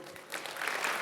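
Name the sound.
keynote audience applause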